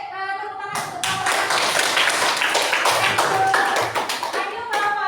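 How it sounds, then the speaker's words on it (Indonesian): Students in a classroom applaud a group, a burst of brisk, dense clapping that runs for several seconds after a voice finishes speaking and then fades as speech resumes. "kasih tepuk tangan untuk kelompok"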